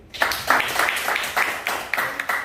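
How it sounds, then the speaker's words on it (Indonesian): A seated group in a meeting room breaks into brief applause, a short burst of fairly close, uneven clapping with no talk. "Tepuk tangan buat ibu."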